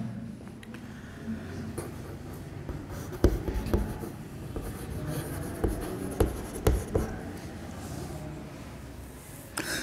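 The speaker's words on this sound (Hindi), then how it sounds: "ध्यान देना बेटा, नेक्स्ट इक्वेशन लिख रहा हूं मैं।" Chalk taps and scratches across a classroom board as an electrochemistry equation is written, giving irregular strokes and sharp clicks in a small room with faint background hum and no talking.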